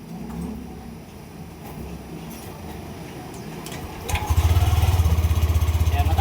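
A Yamaha Nmax 155 V2 scooter engine with an unstable idle starts up and settles into a steady, fast, throbbing idle. A faint background rumble comes before it.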